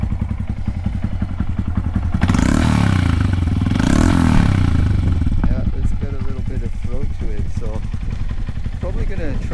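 A Honda Monkey 125 motorcycle with a TB Parts exhaust and no decibel killer idles with a close, loud, chugging beat, revving up and back down twice before settling, while a person talks over it.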